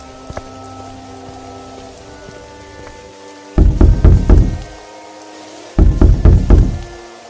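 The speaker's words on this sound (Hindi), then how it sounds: "इतनी रात में काहे कुंडी बजावत है?" Two bursts of rapid knocking on a door latch at night in an animated cartoon story, each a quick cluster of loud wooden raps, heard close and alone with no talk.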